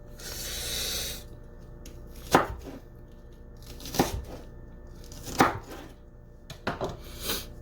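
A knife chops vegetables on a board for a pork stir fry with bok choy, giving four sharp, separate strikes spaced about a second and a half apart against a quiet background, after a short soft rustle at the start.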